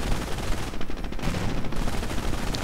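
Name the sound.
gunfire in a World War II strategy video game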